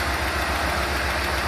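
Audi A3 1.8 20v engine idling steadily with an intermittent hydraulic lifter fault, a dense mechanical drone carrying a fast, faint ticking pulse underneath.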